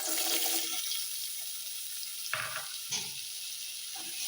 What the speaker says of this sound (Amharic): ዘይትና ዝብዳ አንድ ላይ አድርገን ነው የምንጠብሰው ማለት ነው